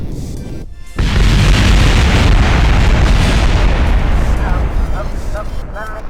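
A spacecraft blows up in the Kerbal Space Program video game: a sudden loud boom after a short quieter stretch, followed by a long rumbling roar that slowly fades.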